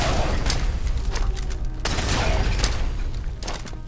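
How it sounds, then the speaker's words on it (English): Grenade and Molotov blasts in Fallout 4 combat, a dense, loud barrage of booming explosions and crackling bursts with sharp impacts around one and two seconds, continuous and close. "Explosions!"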